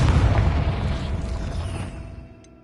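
Confringo spell explosion in the Hogwarts Legacy video game, a deep booming blast with rumbling low end that slowly decays over about two seconds.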